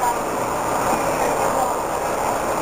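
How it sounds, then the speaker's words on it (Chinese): Train at Nantou railway station near Sun Moon Lake, a loud continuous rumble of rolling rail cars filling the whole stretch, with faint voices underneath. "南投车站。"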